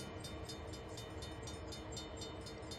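Train in the video game Train Sim World slowing toward a stop, a faint steady rolling rumble with regular rhythmic clicking pulses from the wheels.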